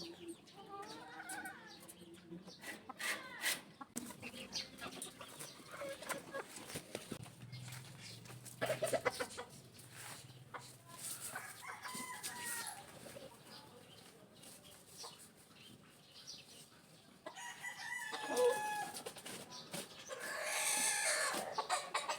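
A hen about to lay eggs clucks and cackles repeatedly amid farmyard bustle, with scattered bird calls and some shuffling, growing louder toward the end.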